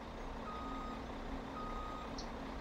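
Steady electronic reversing beeps from an older Mack truck in Farming Simulator 17, repeating evenly over a constant engine and ambient drone.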